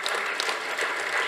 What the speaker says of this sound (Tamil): உங்க கைத்தட்டுகள் அதை உறுதிப்படுத்தட்டும்.